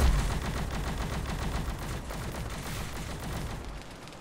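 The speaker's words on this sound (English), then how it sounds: "Heavy fire" Sustained heavy automatic gunfire in a video game, a loud, dense stream of rapid shots with no pause.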